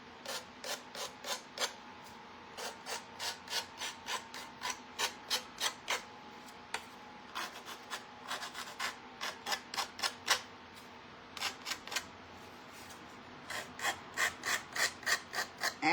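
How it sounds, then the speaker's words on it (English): Small gator sander working the edges of a craft envelope, heard as a long series of quick rhythmic rasping strokes in short bursts with brief pauses, close up and alone. "Just gonna sand up the edges a little."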